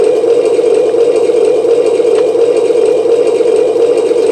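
Steady, loud droning engine sound effect from an Imex M-26 Pershing RC tank, a continuous even hum with a faint rhythmic pulse and no pauses.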